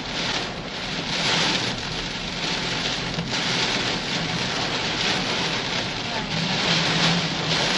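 Heavy stormy rain pounds a Toyota Fortuner 2.8 on a drive to Ciletuh Geopark, a dense, steady hiss and patter of drops on the car body with strong wind, and a voice talks faintly underneath.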